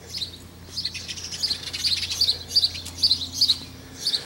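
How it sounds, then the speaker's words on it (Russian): Sparrows chirp near a house in a village garden, a busy run of short, bright tweets repeating steadily at moderate distance over a low background hum. "Это воробьи вот у нас тут."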